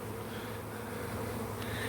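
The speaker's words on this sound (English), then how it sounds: "This is what you call a swarm." A honey bee swarm forming a cloud over a home garden gives off a dense, steady buzzing hum that fills the space, close and continuous with no voices.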